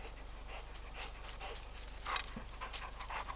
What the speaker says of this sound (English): try not to pay attention to my dog